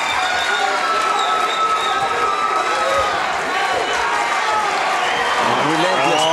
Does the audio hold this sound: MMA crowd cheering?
yes